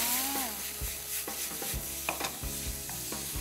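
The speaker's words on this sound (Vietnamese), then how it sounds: "Hưng sẽ cho vào chảo một ít nước để cho thịt của chúng ta sẽ được chín đều hơn" Meat is stir-fried with a splash of water in a hot pan for spinach stir-fry, a steady frying sizzle broken by repeated low thumps and scrapes of the spatula, close-up with no talking.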